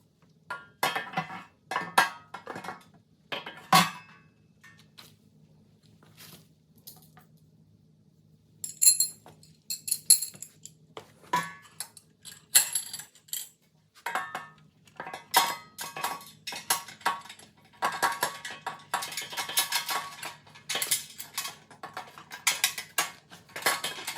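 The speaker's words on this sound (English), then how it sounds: "I'm using a number 6 Allen head to tighten the bolts." Metal clinks and short tool clicks from tightening bolts with a number 6 Allen key while mounting a new tank on a Coleman BT200X minibike, the seat removed; scattered taps at first, then denser rattling and clinking toward the end, fairly close and moderately loud.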